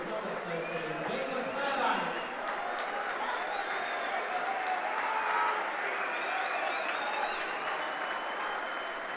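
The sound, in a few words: stadium crowd applause for substituted rugby player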